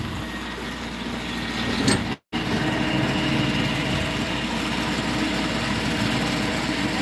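A tractor engine drones steadily while the rear of the tractor is lifted, a constant low rumble with one brief cut partway through.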